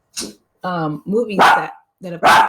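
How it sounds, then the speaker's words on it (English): A pet dog barks several sharp, close barks in short bursts, with a person talking over and between them. "That's my dog"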